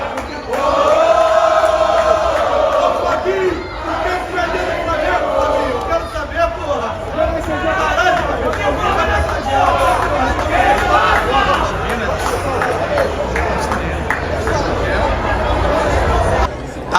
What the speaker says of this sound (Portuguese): Tá tendo um protesto aqui em Curitiba.